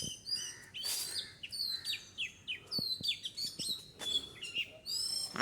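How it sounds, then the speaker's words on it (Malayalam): Several birds chirp in the morning, trading quick high tweets and short trills close by in irregular bursts, with faint background noise and no voices. "ഇതാ കിളികളെല്ലാം കമ്മി വന്നിട്ട് ഇങ്ങനെ കൊഞ്ചു നോക്കല്ലേ"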